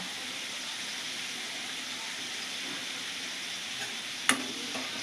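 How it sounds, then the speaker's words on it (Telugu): Steady frying sizzle in a pan as tamarind and curry leaves go into hot oil, a continuous hiss with a single sharp clink near the end, no voices. "కొద్దిగా అయితే చింతపండు వేస్తున్నానండి."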